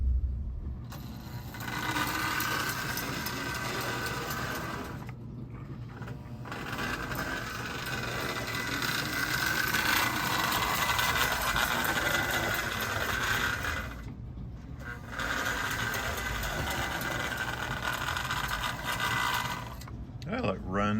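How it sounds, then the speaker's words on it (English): A Marx custom tank toy locomotive runs on a model train layout, giving a continuous mechanical whirring and rattling clatter of gears and wheels, close and steady with brief pauses. "So let's take the tank locomotive over to the layout and see how it runs."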